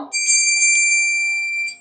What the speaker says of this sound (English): This is a little bell.